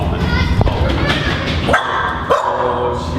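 A small dog yips and barks a few times close by aboard a ferry crossing from Washington toward Canada, mixed with voices and children's chatter over steady vessel noise.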